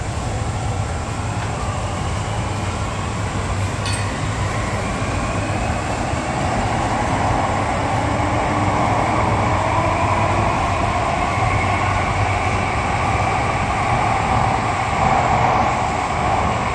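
A Mumbai Metro Aqua Line train pulling out of a station, heard from onboard as a steady, continuous rumble of wheels and motors with a faint brief tone early on and no talking.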